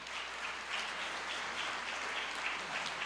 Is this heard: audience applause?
yes